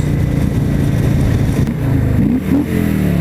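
A 2018 Harley-Davidson Fat Boy motorcycle engine revs loud and close, with a deep, continuous throbbing rumble whose pitch climbs and dips as the throttle opens and eases, and no talking.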